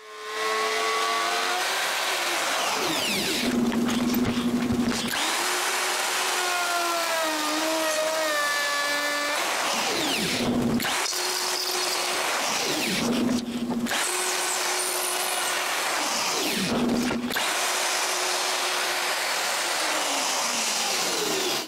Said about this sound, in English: I clamp a guide in place, parallel to my mark, and cut both dados at the same time